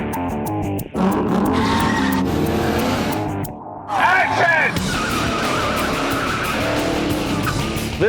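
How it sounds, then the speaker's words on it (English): Tires squeal as a 1972 Ford Torino skids through a film stunt, loud sustained screeches over a roaring engine, breaking off and returning in bursts. "This is Vin Diesel's car"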